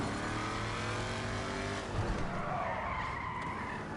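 A car's handbrake skid in the video game GTA Online, a sustained tire screech with engine drone, fairly quiet and continuous, swelling slightly midway.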